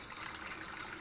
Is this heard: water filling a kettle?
yes